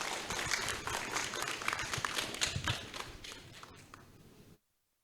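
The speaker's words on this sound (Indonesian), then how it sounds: "Berikan tepuk tangan yang meriah." An audience at the Jakarta Institute of the Arts anniversary event applauds after the rector's speech, a dense burst of clapping that thins and fades before cutting to silence.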